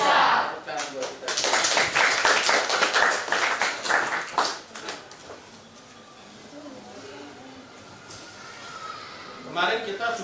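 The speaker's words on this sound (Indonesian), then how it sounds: "Tepuk tangan buat kita" A class of vocational high school students claps together in a classroom, dense rapid applause for about four seconds that fades into quieter room sound, with voices before and a voice at the end.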